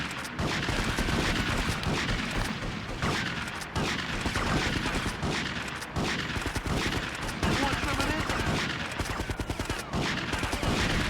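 Shotgun blasts go off in a Grand Theft Auto: Vice City Stories rampage, a rapid, relentless string of loud game gunshots and impacts with hardly a pause across the whole stretch.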